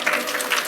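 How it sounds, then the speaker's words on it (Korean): A conference audience claps briefly in a dense, even patter of applause filling the room, lasting under a second, with no speech over it. "박수 쳐주셔도 돼요."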